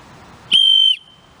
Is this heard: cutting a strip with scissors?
no